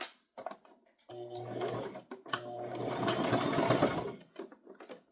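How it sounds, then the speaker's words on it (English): A sewing machine stitches a toddler's crossbody purse in short bursts, the motor whirring steadily for a few seconds and pausing between runs, close and fairly quiet with no talking. "And then you start to sew."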